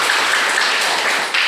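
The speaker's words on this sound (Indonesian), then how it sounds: "Oke, tepuk tangan." A classroom of students claps their hands together on cue, a dense steady wash of applause filling the short burst without pause.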